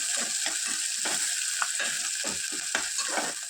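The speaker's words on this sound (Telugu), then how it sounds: "ఆనియన్ ముక్కలు కలర్ మారేంత వరకు వేయించుకోవాలి" Onion pieces, curry leaves and ginger sizzle steadily in a hot pan, with repeated scraping stirs at a regular rhythm throughout, close and fairly loud.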